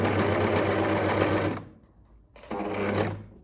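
A serger sews a neckline seam in two loud, close whirring runs separated by a brief pause.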